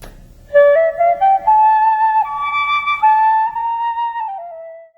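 A small flute plays a stepwise scale of clear, high notes, each held briefly, ending on a longer tone with no other sound.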